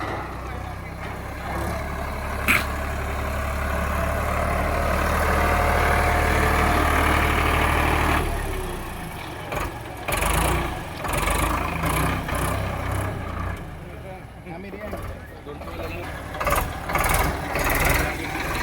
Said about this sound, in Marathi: तुम्ही बघू शकता ट्रॅक्टर खाली येतं